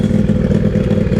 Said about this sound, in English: I don't know if you can hear, but the exhaust is really, really loud